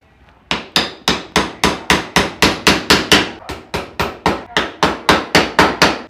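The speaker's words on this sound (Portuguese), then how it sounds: "Eu vou botar os pregos no meu" Nails hammered into a wooden pallet stool, with about twenty loud, sharp strikes in a quick, steady rhythm, each a ringing wooden thwack close to the microphone, and no voices.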